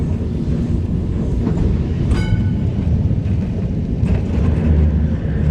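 Train crossing a bridge near a Lisbon museum, a steady loud rumbling roar with rattling clatter lasting the whole stretch, a brief squeal midway.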